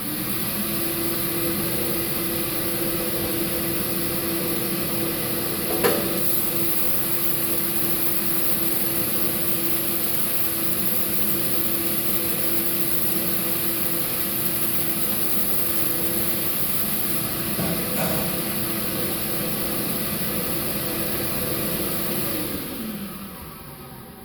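A sandblaster blasting a metal part, a steady loud hiss of rushing air and grit running continuously for over twenty seconds, with a constant underlying hum and a couple of brief knocks, then tapering off at the end.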